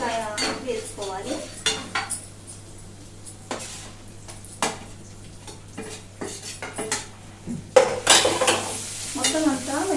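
A spoon clinks and scrapes against a pan while grated raw mango is stirred in with turmeric, in repeated irregular strokes over a soft background sizzle, close and fairly loud, with no talk.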